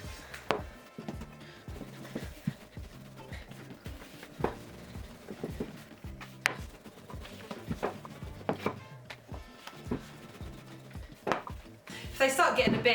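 Homemade tortilla dough rolled out with a rolling pin on a board, repeated soft knocks and rolling thumps in an irregular rhythm, close by, while someone talks throughout.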